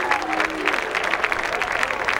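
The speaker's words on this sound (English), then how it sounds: "And the resounding cheer of Luke." A golf gallery at the Masters Tournament bursts into cheering and sustained applause after a birdie putt, a dense wash of clapping from a large crowd, with a commentator's voice over it.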